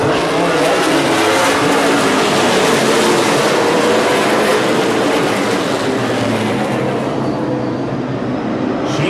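Super late model stock cars racing around Evergreen Speedway, a loud continuous roar of engines as the pack passes close, sustained throughout and fading slightly near the end.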